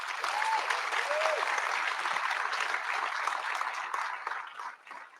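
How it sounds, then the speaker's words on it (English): An audience claps at a closing panel event, a sustained wash of applause from a crowd that holds steady, then thins out and fades toward the end. "let's please give a big round of applause to our development team"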